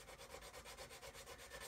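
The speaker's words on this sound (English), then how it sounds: "it's sanding off an area here" A sanding stick rubs back and forth over the hull of a 1/72 scale model U-boat in steady, rhythmic strokes, quiet and close, with no talking.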